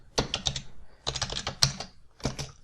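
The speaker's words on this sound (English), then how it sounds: "So if I just type in, say, chapter" Bursts of typing on a computer keyboard, several quick clusters of key clicks close up with short pauses between them, no voices.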